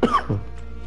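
A single harsh cough from a man, close and brief, with a rough throaty burst followed by a quick lower second push before fading into quiet room tone.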